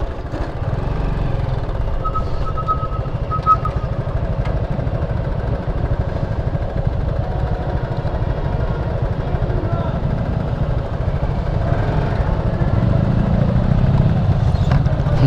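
A motorcycle's engine rumbles low and steady while riding at a toll plaza, a continuous drone beneath nearby talking.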